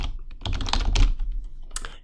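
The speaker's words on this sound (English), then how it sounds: "I'm going to press the space bar just to shift it over a little bit" A computer keyboard's space bar and keys are pressed in a brief cluster of close, soft clacks during a short typing moment.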